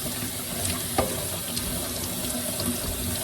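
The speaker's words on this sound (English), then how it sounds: "So then I'm going to rinse out as much as I can." Water runs steadily from a sink tap as makeup brushes are rinsed, a continuous close hiss and splash with one small knock near the start.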